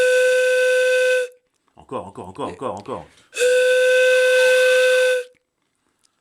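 A loud, steady steam whistle on a model steam tugboat blows for over a second, pauses while a voice speaks briefly, then sounds again for about two seconds before cutting off.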